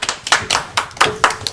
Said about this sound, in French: on peut les applaudir, bravo!